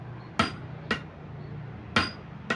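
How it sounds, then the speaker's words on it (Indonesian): A big hammer strikes a motorcycle shock absorber part while its seal is replaced on a Honda Beat FI scooter: four sharp, loud metallic blows at irregular spacing over a steady low hum. "Pukul menggunakan palu yang gede ya teman-teman ya."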